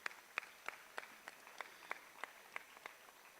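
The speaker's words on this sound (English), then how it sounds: "Let's give a big round of applause to all these young exhibitors." A small crowd at a 4-H market hog show applauds the young exhibitors with sparse, faint, evenly spaced claps in a large hall, with no talk.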